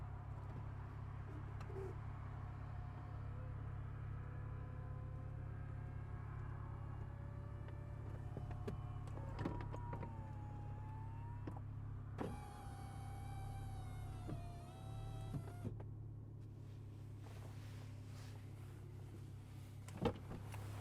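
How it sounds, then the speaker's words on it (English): Electric convertible roof of a 997.2 Porsche 911 Turbo S closing: a long mechanical motor whine with shifting pitch, a higher servo whir partway through, and soft clunks as panels seat, all over a low steady rumble. "And I'll put the electronic roof back on."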